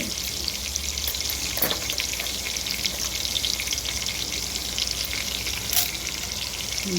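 Mustard seeds frying in hot oil and melted butter for tomato bath, a steady close sizzle with scattered crackles and pops, no talk.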